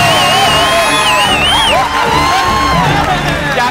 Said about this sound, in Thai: แล้วขอเสียงกองเชียร์แม็กซ์หน่อยครับ